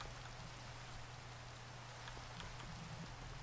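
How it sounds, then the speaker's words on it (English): Steady rain falling in the Minecraft modpack Enigmatica 2, a constant soft hiss of drops with faint low hum underneath, quiet and unbroken, no talking. "I'll see if I can go get rid of the rain in the meantime"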